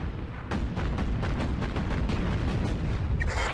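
Repeated booming naval cannon shots from the video game Battlestations Pacific, rapid and heavy, one after another, with a sharp high burst near the end.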